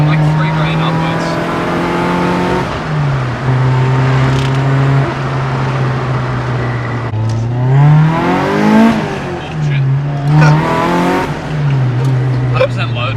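A car with a rebuilt Toyota 4AGE engine accelerates hard and shifts gears repeatedly, the engine note climbing, dropping at each change, then rising again. It is loud and close throughout, with people talking over it.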